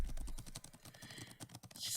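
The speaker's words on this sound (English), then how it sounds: "She starts typing crazily on the keyboard." Rapid, frantic typing on a computer keyboard in the visual novel If My Heart Had Wings: dense clustered key clicks at a steady hurried pace, close and fairly quiet, with no voices.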